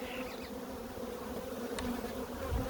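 Honeybees buzzing around an open hive being cleaned during requeening, a faint continuous hum with occasional closer passes.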